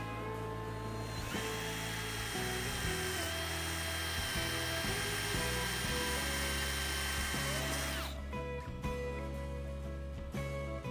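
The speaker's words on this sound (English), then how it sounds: "Pre-drill the holes." Power drill pre-drilling screw holes to mount an automatic door closer on a commercial walk-in cooler door: a close, loud, high whine that holds steady, then rises in pitch for a few seconds before winding down.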